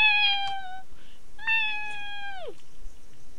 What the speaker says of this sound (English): I hope my cat doesn't just walk in and go meow